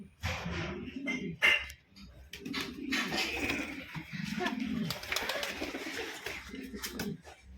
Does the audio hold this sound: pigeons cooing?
yes